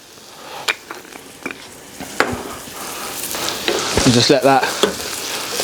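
Onion with black mustard and cumin seeds sizzling in a pan on a Thuros B2 grill, a constant crackling fry that swells louder toward the end, with brief spoken words over it.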